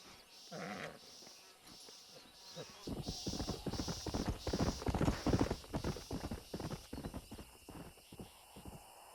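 A stallion in the Red Dead Redemption video game, its hooves clip-clopping in a steady rhythm that grows louder midway, with a short whinny near the start, close by.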